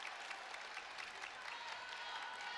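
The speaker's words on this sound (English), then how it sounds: "Arrowhead crowd starting to clap if you can hear it." Home fans clap in a high school gym during a boys' wrestling dual meet, a faint, distant wash of steady clapping mixed with crowd murmur, heard alone without nearby talk.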